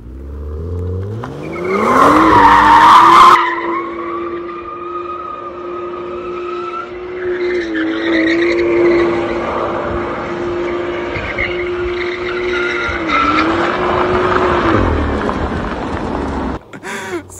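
A BMW M2 F87 LCI drifting, tires squealing in a long sustained screech over the revving engine, loud and close, rising at the start and holding for over ten seconds before fading out.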